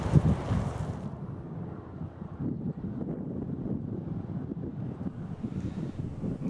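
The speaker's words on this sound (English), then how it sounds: "It's getting a little windy." Gusty wind buffets the microphone on an open disc golf course, a steady low rumble that runs the whole time without any voices.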